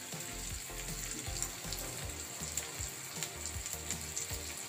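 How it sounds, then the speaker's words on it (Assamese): Onions and green chillies frying in oil with a little turmeric, making a soft, low crackle and bubbling sizzle with faint scattered pops. "এতিয়া এইটো অকণমান ফ্ৰাই কৰা হৈছে পিঁয়াজ আৰু জলকীয়াটো অকণমান ফ্ৰাই কৰি দিলোঁ"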